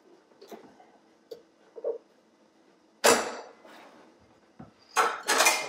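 A knife splits a tough microwaved spaghetti squash in half, giving a few short dull thuds and crunching cuts with clatter against the board, loudest in two bursts near the middle and end.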